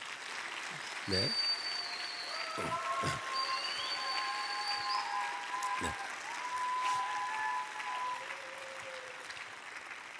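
An audience at a Christian academy's opening ceremony applauds continuously, a dense, even patter of many hands throughout, while someone speaks briefly over it.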